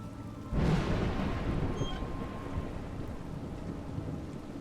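Steady rain in the video game A Juggler's Tale pours down in a dense, continuous hiss that starts abruptly and holds at an even level, with a low rumble beneath it.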